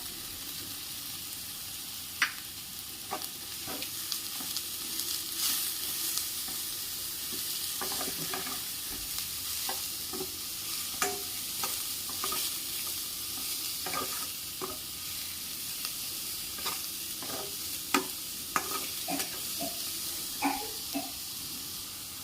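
Chili and chopped spring onions frying in a pan, a soft continuous sizzle broken by scattered scraping clicks of stirring, quiet and close with no voices.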